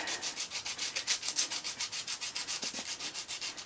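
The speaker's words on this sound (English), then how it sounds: "so I'm just going to sand the edge" Rhythmic back-and-forth sanding along the edge of a small piece of dried modelling clay, close and steady strokes at a quick even pace, with no voices.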